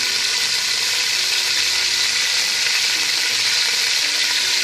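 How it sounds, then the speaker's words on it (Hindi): Chicken pieces fry in hot oil in a pan over a low gas flame, making a loud, steady, unbroken sizzle throughout. "ऑयल डाल दिया। अब मैं इसमें ना ये चिकन डाल दूँगी।"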